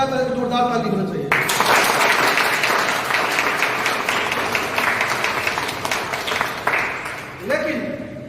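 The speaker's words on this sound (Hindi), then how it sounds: "बहुत अच्छा लगा तो एक जोरदार ताली होना चाहिए।" Audience at a health-plan seminar bursts into loud, sustained clapping that lasts several seconds before fading, with a voice speaking just before and after the applause.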